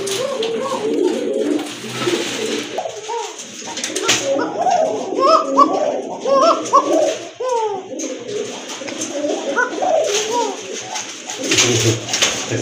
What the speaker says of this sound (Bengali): এটা কিন্তু কোকার একটা মাদি কবুতর, এটা কিন্তু খুব ভালো ডাকে